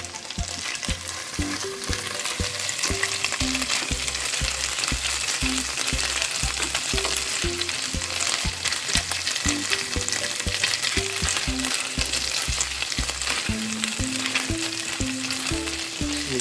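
Pork and garlic frying in a pan, a dense continuous sizzle with stirring, close and steady for the whole stretch while a rhythmic low beat of background music plays underneath.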